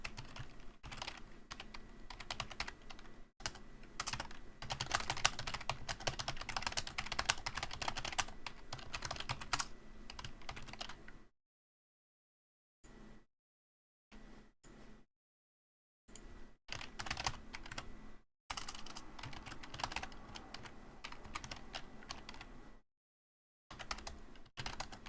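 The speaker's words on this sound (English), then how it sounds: "I'm gonna do some furious typing right now" Fast, furious typing on a computer keyboard during a Total War: Warhammer 3 tournament stream, a dense, steady rattle of keystrokes in bursts separated by short silent gaps, close and fairly loud with no talking.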